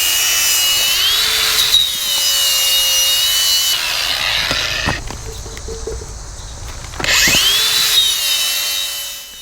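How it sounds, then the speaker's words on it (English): A power tool sands and wire-wheels the front drive shaft of a Jeep TJ. It gives loud, gritty abrasive grinding with a whining motor pitch that rises and falls, pauses briefly, then picks up again. "right here I'm sanding and wire wheeling the front drive shaft, getting it ready to be sprayed"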